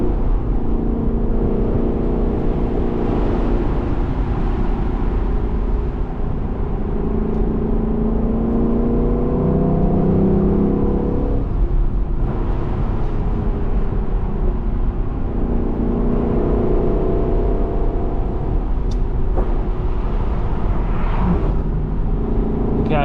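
Lexus LC500 engine heard from inside the car, a loud, continuous droning roar with rising and falling revs and sweeping pitch changes, steady throughout with no talk over it.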